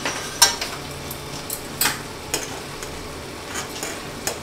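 Fenugreek chutney being stirred in a pan as spices go in, with soft scraping strokes at an irregular rhythm over a low, steady sizzle, close and fairly quiet.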